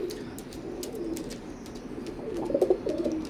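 A pair of teddy golden pigeons coo softly and repeatedly at close range, the low throaty calls growing slightly louder near the end over faint background hiss.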